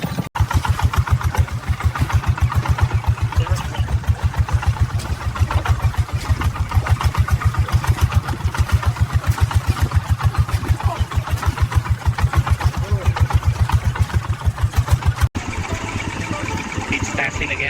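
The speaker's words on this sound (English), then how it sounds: "Diesel's running rich." A diesel engine running rich on rural farm machinery in Southeast Asia, idling with a steady, loud, rapid chugging pulse close to the microphone for most of the time, and a brief change in tone near the end.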